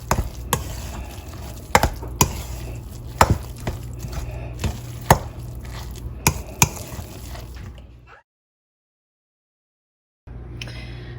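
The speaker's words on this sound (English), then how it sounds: "Gonna add it in, and then just give it a really good stir" Ham salad with a cup of mayo and a tablespoon of mustard is stirred in a bowl, a run of wet, regular spoon knocks and scrapes that stops abruptly, then silence before faint room sound returns.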